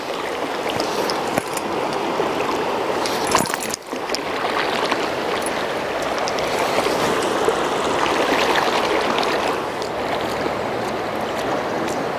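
A flowing stream, moving a little deeper and quicker than usual, makes a steady close rush and babble of water throughout, with a brief knock partway through and no talk.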